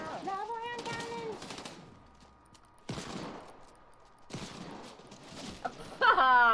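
Hand cannon gunfire in a video game: several loud, sharp bursts of shots in spaced volleys, mixed with voices talking over the action.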